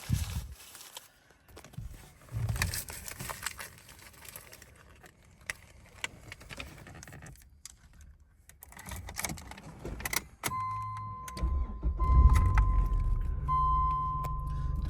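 Rustling and jangling keys come first, then a 2.0 16v Ford Probe with 35,000 miles and a light restoration starts and settles into a low, steady idle with a faint whine, heard close by without speech.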